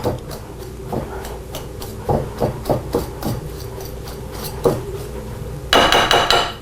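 A whisk clatters and taps against a bowl while chopping up a crumb topping for an apple crisp, giving irregular close knocks, then a brief busier rattle near the end, with no speech.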